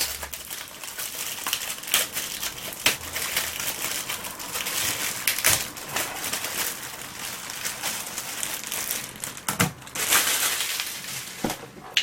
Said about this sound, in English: Let's take it out of this packet.